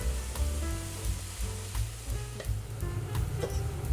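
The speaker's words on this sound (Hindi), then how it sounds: "इसके बाद इसमें हम डाल देंगे मेथी की पत्तियाँ चॉप की हुई और थोड़ी देर इसे हम कुक करेंगे" Chopped fenugreek leaves sauté with ginger, garlic and green chilli in a pan, giving a steady close sizzle broken by scraping stir strokes throughout, with no talking.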